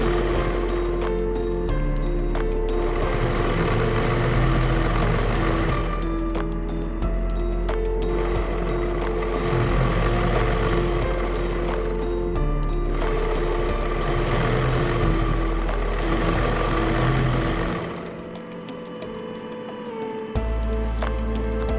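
A machine embroidering a sleeve design with zari thread: a steady, close mechanical whir and rapid needle chatter running without a break, with a brief drop in the low hum near the end.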